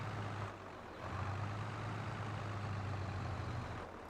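Tractor engine driving uphill in Farming Simulator 22, a steady low rumbling drone with a constant hum, running alone at moderate loudness with no talk.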